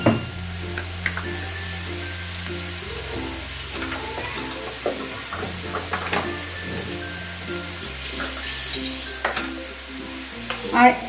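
Ginger, garlic and green chili paste frying with onions in a pan for a boal fish curry, a steady close sizzle with repeated stirring and scraping strokes.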